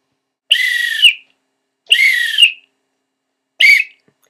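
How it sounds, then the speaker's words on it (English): A gym coach's whistle blown three times at a beach, two long shrill blasts and then a shorter one, loud and close with silence between them. "It's a whistle."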